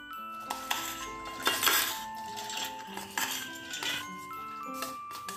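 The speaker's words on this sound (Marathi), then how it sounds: "आता ही डाळ मिक्सरच्या भांड्यात घालून घेऊयात।" Soaked dal for rava appe batter goes into a steel mixer jar with scattered metallic clinks and scrapes, moderately close, over background music.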